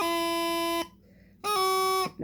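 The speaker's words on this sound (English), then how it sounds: "That was G grace note to F." Bagpipe practice chanter plays a G grace note into F twice, each a steady reedy buzzing tone with a quick flick at the start, separated by a short gap, close and alone.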